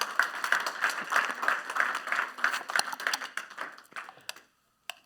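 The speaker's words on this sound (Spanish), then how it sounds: "¿Cuántos le dan un aplauso al Señor?" A church congregation applauds for several seconds, a dense crowd of claps rising and falling at moderate volume before fading out to silence.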